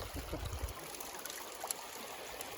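River water flowing steadily during gold prospecting in New Hampshire in late summer, a continuous soft rushing trickle close by, with a few low thumps near the start.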